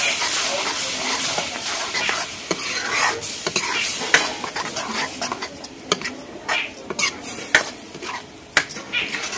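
Spinach being stirred in a cooking pot for palak paneer, with steady scraping and clinking of a spoon against metal and a soft sizzle underneath, continuous and close.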